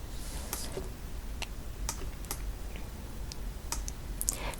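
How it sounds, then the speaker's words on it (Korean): Keyboard arrow keys are tapped while a Photoshop CC 2021 image is moved, a scattered run of light, crisp clicks at uneven intervals against a quiet room hum. "저는 지금 키보드 방향키로 이동하고 있는데"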